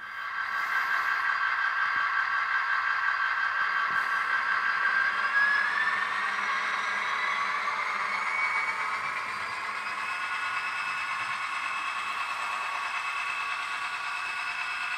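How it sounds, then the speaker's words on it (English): A model railroad locomotive runs along a test track across a turnout, giving a steady whirring motor hum with faint clicks from the rails, close and continuous throughout. "We got a locomotive on the test track, and we're going for this turnout right here."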